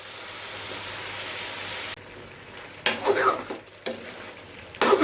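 Beef frying in a pot with whole green chilies, heard as a strong continuous sizzle that cuts off, then returns in bursts of crackling and stirring.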